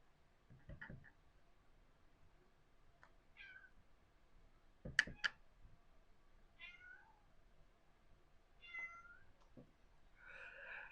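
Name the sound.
cat meowing to be fed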